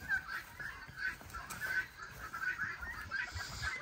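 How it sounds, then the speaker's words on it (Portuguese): An Egyptian goose honks in short, scattered calls amid a busy outdoor aviary, faint and somewhat distant against steady background noise. "Olha o ganso do Egito."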